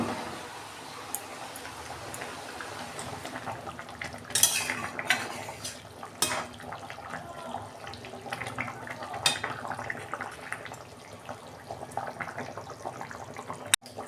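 A utensil scrapes and clinks in a kadai while stirring chicken over a low gas flame, with irregular strokes and a faint sizzle underneath.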